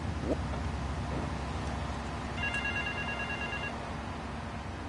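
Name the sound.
telephone ringing in video game GTA III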